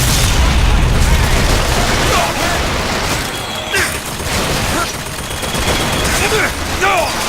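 Turret gunfire in BioShock Infinite, dense rattling bursts and booms in a chaotic firefight, loud and continuous with overlapping shots, voices speaking amid the combat.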